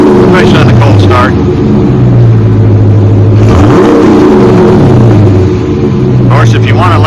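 A 2023 Dodge Charger with its rear muffler deleted revs loudly up close, its exhaust note rising and falling through several throttle blips over a continuous deep idle.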